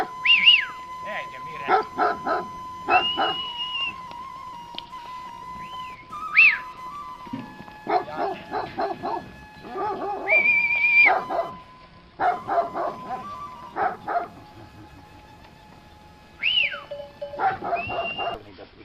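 Dogs bark near a sheep dairy in the countryside around Veles, with repeated barks and whines in bursts through the clip, along with whistling and occasional human voices.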